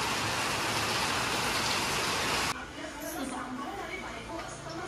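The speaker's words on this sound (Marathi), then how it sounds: "खूप दिवसांनी एवढ्या जोरात पाऊस आला" Heavy rain pours down in a dense, loud hiss at first, then drops to a softer rush as indistinct voices and household sounds come through.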